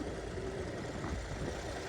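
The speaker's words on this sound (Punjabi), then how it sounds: "ਬਹੁਤ ਸੋਹਣਾ ਚੱਲਦਾ ਟਰੈਕਟਰ" A John Deere tractor engine runs at a steady low rumble, constant and even with no changes in pace, heard alone nearby.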